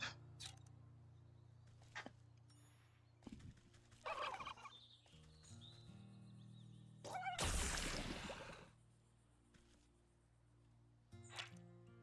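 A game turkey in Wytchwood gives a loud burst of gobbling among scattered short game effects and quiet background tones, with no talking.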